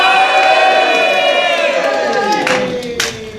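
A stunt show crowd cheers and claps loudly for a returning player, a dense wash of voices and hands that swells early and then gradually tapers off.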